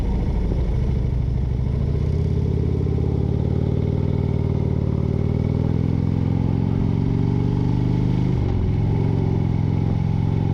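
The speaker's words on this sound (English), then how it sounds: "Bike's riding nice and smooth." A motorcycle, just back from the shop, cruises steadily along the road with a continuous, smooth mid-pitched engine drone and rushing wind that stay loud and close throughout, dipping briefly near the end.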